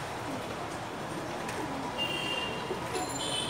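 Pigeons cooing at a busy pigeon market in Dhaka, with soft coos buried in a dense wash of crowd and market noise and a few faint high chirps.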